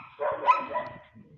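A volpino dog barks a few times in a quick, close burst, loud and alone with no talking.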